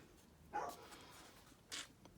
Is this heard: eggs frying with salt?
no